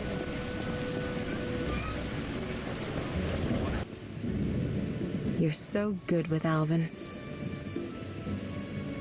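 Steady heavy rain hisses throughout with a low rumble of thunder underneath, while a person speaks briefly partway through.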